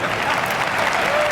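Audience applause at a keynote comedy talk, a dense, loud, continuous wash of clapping from a large crowd.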